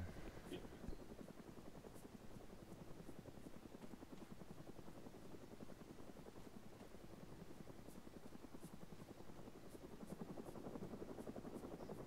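A steady, low rhythmic thumping of helicopter rotor blades in the video game ArmA 3 continues throughout, faint and distant, without fading noticeably.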